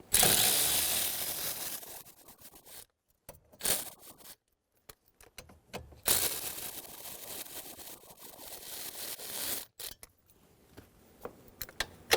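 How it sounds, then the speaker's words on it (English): A 10mm socket ratchet loosens kick plate bolts under the dash of a 2011-2014 Hyundai Sonata, with bursts of quick clicking pawl ratcheting broken by short pauses and quiet handling noises. "Using a 10mm socket, remove all of the bolts for the kick plate."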